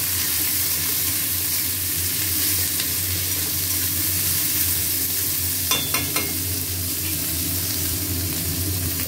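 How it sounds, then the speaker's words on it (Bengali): Vegetables stir-fried in a hot pan, a loud steady sizzle and hiss of frying with a few sharp clinks of a utensil against the pan partway through, close and without speech. "এবার সবজি দিয়ে ভালো করে ভাজবো।"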